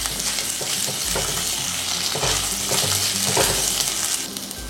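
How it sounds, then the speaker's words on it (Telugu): Long-sliced onion hits hot oil in a pan and fries with a loud, continuous sizzle, stirred now and then with soft scraping, up close and with no talk. "పొడవుగా కట్ చేసి పెట్టుకున్న 1 ఉల్లిపాయని నేను వేసుకుంటున్నాను."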